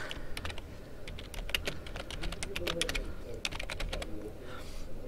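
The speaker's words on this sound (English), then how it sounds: "So we'll go ahead and type Civil Rights Movement." Rapid keystrokes on a computer keyboard come in quick irregular bursts with short pauses, close and fairly quiet, with no voice over them.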